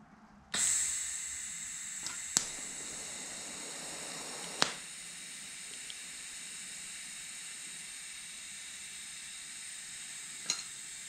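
Welder working on stainless steel, a steady close hiss and sizzle that starts abruptly and runs without a break, with a few sharp pops and crackles standing out along the way.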